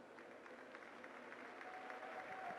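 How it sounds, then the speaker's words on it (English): Crowd clapping for an injured player at a U16 international American football bowl game in Panama, a faint, steady patter of applause from a distant stadium audience, continuous and low throughout. "Good sign with the crowd clapping for the injured player."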